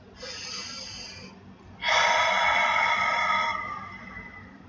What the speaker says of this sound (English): I'll do the half breathing. Breathe in through your nose.